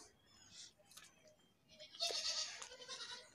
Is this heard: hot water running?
no